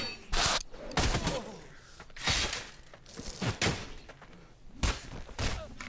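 Heavy antique greatsword attacks in the Blade and Soul video game land as a series of sharp, forceful impacts, about six distinct hits spaced irregularly, each a loud whoosh-and-thud burst with quieter gaps between.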